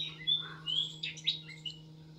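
Two parrots calling in a home yard, a series of short, shrill chirps and whistles repeated every half second or so, moderately close over a steady low hum.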